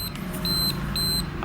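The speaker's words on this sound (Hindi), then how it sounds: "अलार्म बता रहा है ये" Emergency light alarm beeping on a workbench during fault testing, a few short high-pitched beeps repeating at an even pace over a steady low hum.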